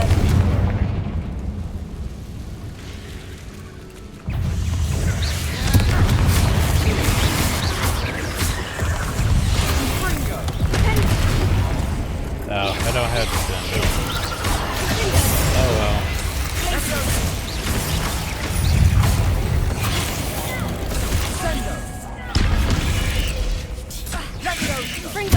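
Confringo fire spell exploding in the video game Hogwarts Legacy, heavy booms and crashing blasts layered over a dense, continuous game soundscape with voices speaking.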